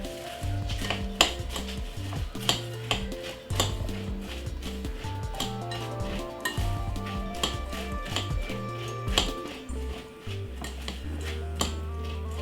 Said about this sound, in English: Just mix it up like this.